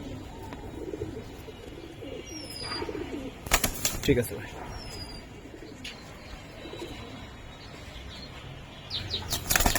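Army pigeons, a large pigeon breed kept in a loft, flap their wings in bursts and give faint calls against a busy, noisy background, with someone speaking briefly.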